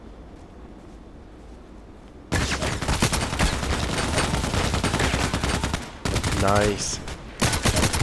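Rapid automatic gunfire from the Contract Wars video game starts after a quiet lead-in, then runs as a loud, dense stream of shots with brief breaks, and a voice speaks once near the start.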